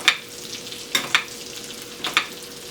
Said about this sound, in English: Now I'm just going to baste the fish. And you want the butter to foam